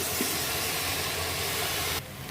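Pumpkin, radish, sweet potato, cauliflower and cabbage with rice and lentils, turmeric, cumin and garam masala fry in a pan for vegetable khichuri, giving a steady broadband hiss that drops slightly in level near the end.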